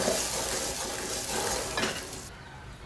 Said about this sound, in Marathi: आता आपण हे मिक्सरमधलं वाटण यामध्ये घालून घेऊया छान असं परतून घेऊया